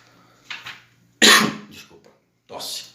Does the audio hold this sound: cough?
yes